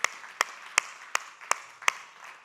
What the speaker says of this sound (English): the applause to has all to the be Wilsonians. loud.